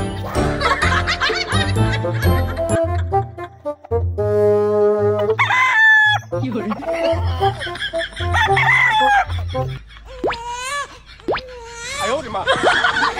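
Roosters crow loudly and repeatedly, mixed with clucking hens, while people talk and laugh close by.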